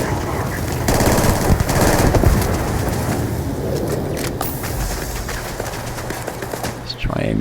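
The Kodama gun fires in Starfield in dense, rapid bursts amid a busy game battle soundscape, loud and continuous, with a voice talking over the gunfire.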